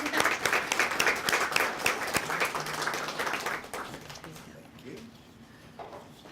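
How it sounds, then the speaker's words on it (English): Applause from a chamber of commerce audience at a student-of-the-month event, dense clapping for about four seconds that thins and fades out, with a few voices mixed in. "You can clap."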